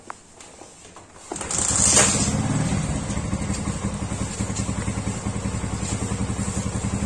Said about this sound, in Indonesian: sekarang saya nyalakan motornya dulu